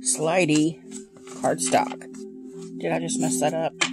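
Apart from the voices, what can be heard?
No everyday noise stands out behind the speech.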